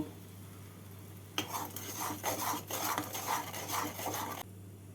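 A spoon stirs salt, turmeric and sugar into poppy seed paste in a pan, a steady scraping and rubbing for about three seconds over a low background hum.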